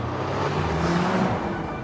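Audi car engine in an advertisement: a steady, full-bodied engine drone with a smooth low rumble and a slight swell partway through, heard alone with no talking.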